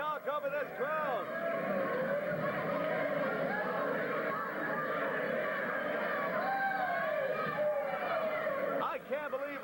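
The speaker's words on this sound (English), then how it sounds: "I can barely talk over this crowd" Loud crowd roaring and shouting without letup at a 1998 SWF wrestling event in Garrison, Kentucky, as two wrestlers brawl, with voices and screams blending into a dense wall of cheering.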